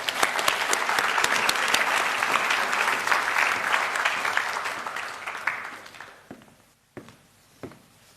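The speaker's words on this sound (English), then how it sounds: "So applaud with me." Loud, full applause from an audience at a medical school white coat ceremony, holding steady and then tapering off into a few scattered claps and footsteps near the end.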